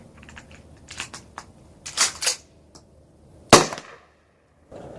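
A Mossberg 500 Compact Cruiser shotgun loaded with incendiary flare rounds gives several light mechanical clicks and clacks, then a single sharp, loud report that cuts off quickly into near silence.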